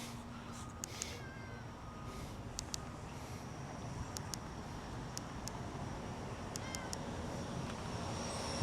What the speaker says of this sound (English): what is this cat saying?